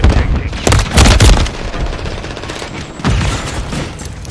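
A stun grenade goes off in a first-person shooter during an objective domination match, with sharp bursts and booming blasts mixed among rapid gunfire, loud and close.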